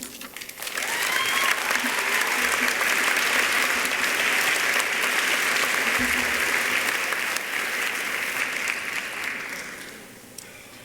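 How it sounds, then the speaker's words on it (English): A large chiropractic college graduation audience breaks into sustained applause, a thick continuous roar of clapping that swells quickly, holds for several seconds, then tapers off near the end. "I appreciate the applause"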